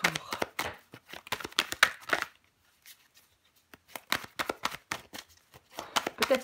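Tarot cards handled close up on a table: a run of quick crisp slaps and shuffling rustles, a short pause, then more brisk card snaps and slides.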